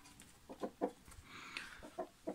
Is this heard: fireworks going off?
no